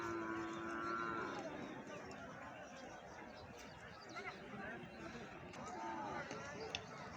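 Cattle at a busy livestock market (haat) in Brahmanbaria, Bangladesh, with a low moo near the start amid steady crowd chatter and trampling, animals being led away through the hubbub.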